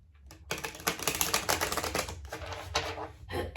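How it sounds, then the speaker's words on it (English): A deck of tarot cards is shuffled close by, a quick run of crisp riffling clicks and flutters in several bursts at fairly low volume. "We're going to shuffle these cards a few times."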